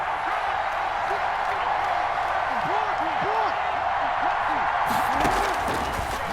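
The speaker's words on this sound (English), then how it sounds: "the crowd getting into it as we come up on a big 3rd down" Stadium crowd in Madden NFL 21 roaring steadily as a big third down approaches, a dense sustained wash of cheering that swells near the end, with a commentator talking over it.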